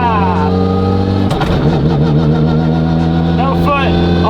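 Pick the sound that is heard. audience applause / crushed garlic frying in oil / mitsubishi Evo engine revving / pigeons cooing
mitsubishi Evo engine revving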